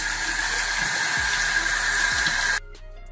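Warm water runs steadily from a tap while dreadlocks are washed, a loud, even hiss that stops abruptly near the end and leaves a quieter room.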